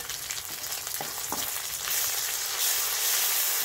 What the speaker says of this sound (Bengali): একসাথে মিশিয়ে ভেজে নিচ্ছি।